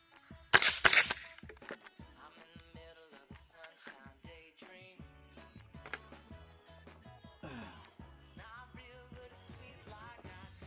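A Taurus TX22 Competition pistol fitted with a HUXWRX Flow 22 titanium suppressor fires a single sharp, muffled .22 report near the start. Quieter clicks and handling noises follow.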